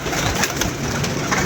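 A pigeon coos close by inside a coop, a brief throaty burble against a dense, noisy background.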